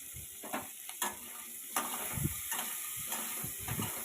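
Vegetable pieces and cut tomato sizzle in a hot pan for a soybean curry, with a steady frying hiss broken by soft clatters from stirring.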